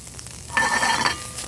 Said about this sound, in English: now we're gonna add the pickled banana peppers